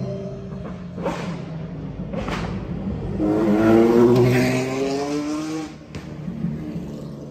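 A Maserati MC12 GT1 race car approaches and blasts past nearby at Spa, its engine note climbing to a loud peak and then dropping away, with faint crowd noise behind.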